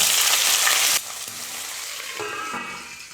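Thin, long-sliced green chillies hit hot oil for raw mango rice, setting off a loud, bright burst of sizzling and spattering that drops abruptly after a second into a steadier, quieter fry with faint stirring clinks.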